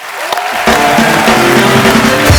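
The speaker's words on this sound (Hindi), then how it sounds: "एक बार जिमी पाजी के लिए जोरदार तालियां" Studio audience at a comedy show breaks into loud applause and cheering, a brief burst rising sharply after a moment of quieter sound, mixed with a sustained musical tone.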